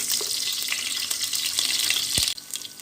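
Ten to fifteen shallots sizzle steadily in three tablespoons of hot oil in a vessel for a Karnataka-style chicken curry, with a constant bright frying hiss, a few stirring knocks and one sharp low thud near the end.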